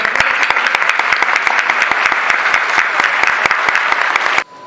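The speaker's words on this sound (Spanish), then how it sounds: "Palmas, por favor." Loud, dense applause from an audience at a cultural tribute ceremony in Ayacucho, steady rapid clapping that runs for several seconds and then cuts off abruptly near the end.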